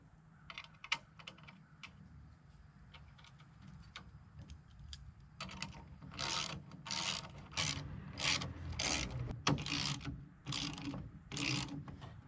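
Screws being driven and tightened into a soft metal power window gear bracket on a 1988 Chevrolet Suburban, giving quiet repeated ratcheting clicks that grow into louder bursts of clicking in the second half, close by with no talk.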